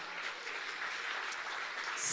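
Brief church applause for the Lord, a steady wash of clapping from the congregation filling the whole moment, rising slightly at the end.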